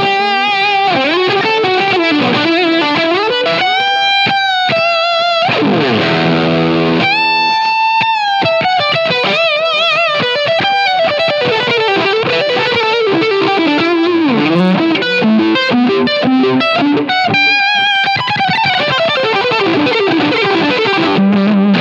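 An electric guitar plays through the Valve Driver pedal model in a Line 6 Helix with the gain at maximum. It gives a heavily distorted, compressed tone, with a continuous phrase of picked notes and a few sustained bends.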